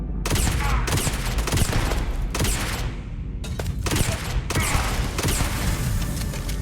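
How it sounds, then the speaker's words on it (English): Sustained bursts of rapid gunfire in the sci-fi video game Starfield, loud and dense with repeated volleys and brief gaps across the whole stretch. "Who's shooting?"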